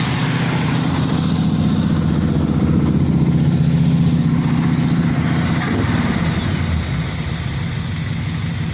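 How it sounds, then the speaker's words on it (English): A Chevrolet Monte Carlo engine idles with its choke stuck on, a loud, steady, close low rumble that runs unbroken throughout with no voices over it. "I don't know why it sounds like the choke's running on that thing."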